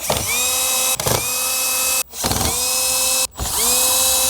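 Power drill spinning out four 10mm bolts from a Land Cruiser dashboard, a steady high whine running in bursts with brief pauses and restarts between bolts, close and loud, no talking.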